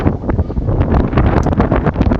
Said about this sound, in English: it's windy. It's literally blowing the phone.